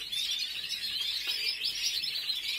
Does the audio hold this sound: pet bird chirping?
yes